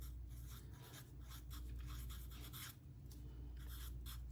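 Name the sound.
writing by hand on paper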